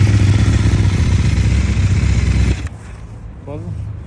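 A CFMOTO 800NK motorcycle engine runs loud and steady close by, then cuts off abruptly partway through, leaving quieter background noise and a brief voice.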